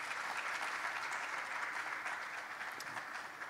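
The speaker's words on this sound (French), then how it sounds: "je pense qu'on peut applaudir nos panélistes" An audience applauds the panelists at the close of a conference panel on private equity and energy financing, a steady sustained clapping from a moderately sized crowd, somewhat distant and even throughout.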